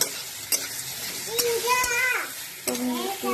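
Boiled potatoes and peas being stirred into spiced soybean frying in a pan, with a steady sizzle and scraping stirs, while someone talks over it.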